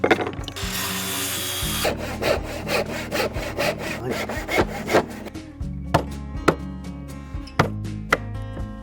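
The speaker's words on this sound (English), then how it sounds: "So let's cut the end off to the right size." A hand saw cuts the end off a wooden piece for a homemade tic-tac-toe game in loud, rhythmic back-and-forth rasping strokes, close and steady throughout with no talking.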